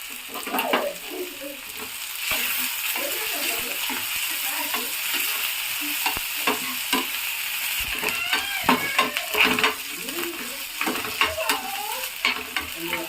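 Onions frying in oil for sambar, with a close, steady sizzle and irregular scraping and clinking from stirring in the pan, running unbroken for the whole stretch without any voices.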